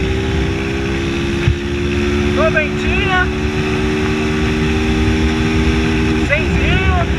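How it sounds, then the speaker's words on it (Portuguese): Motorcycle with a tin exhaust cruising on a highway, its steady engine drone running loud and continuous throughout, with someone talking over it. "A gente vai entrar na BR aqui, testar esse escapamento de lata aqui"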